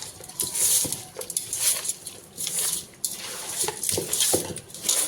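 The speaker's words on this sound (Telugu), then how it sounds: "మిక్స్ చేయమమ్మీ బాగా" Chicken biryani marinade mixed by hand with ghee, salt, turmeric, chilli and spices, giving steady close squelching and clinking stirring sounds in a home kitchen with no talk.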